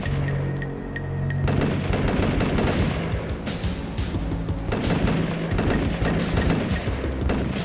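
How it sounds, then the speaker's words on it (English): Enemy gunfire in a video game: a steady rattle of shots, with bursts that come and go against a loud, busy battle din over several seconds. "Hey guys, protect me! They're shooting at me!"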